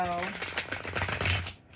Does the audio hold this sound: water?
no